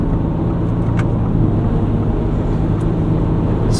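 A 2024 Ford Ranger Raptor on Firestone Destination mud-terrain tires brakes hard in snow with ABS pulsing, a loud steady road and engine drone with a few faint clicks.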